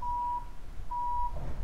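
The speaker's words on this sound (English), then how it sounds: "towards the end you got this beeping noise here." An electronic tone beeps twice, each a long steady pip with a short gap between, over a low rumbling background near the end of a lo-fi track section.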